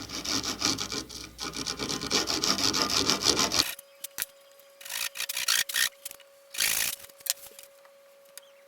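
A hand saw cuts wood for a cigar box guitar headstock, with a steady rasping stroke for several seconds, then shorter scattered strokes and scrapes after a pause.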